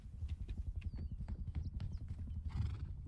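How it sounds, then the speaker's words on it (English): A horse in the Rust survival video game trots with quick, close clip-clopping hooves, and a short neigh breaks through near the end. "I don't hear the helicopter, and the horse is still here."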